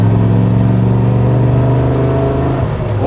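A 1968 Chevrolet Camaro with a manual clutch pulling hard in gear, its engine note droning loud and close and rising in pitch near the end.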